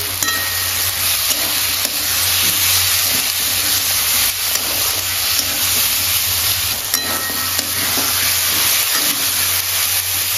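Chopped onions fry in oil in a pan for a cabbage and prawn curry, giving a steady, close sizzle with faint scraping of stirring throughout and no talk.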